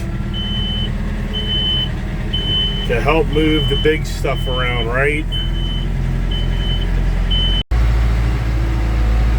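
A tractor gives off a steady low engine rumble while its reversing alarm beeps at a regular rhythm, carrying on under a voice throughout.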